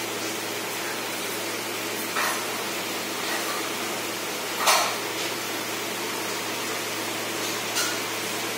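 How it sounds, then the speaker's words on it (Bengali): Rain falls steadily outside a house, a soft, even hiss that fills the whole stretch with a few faint brief patters standing out, and no one speaks. "দেখো বাইরে কিন্তু বৃষ্টি পড়ছে"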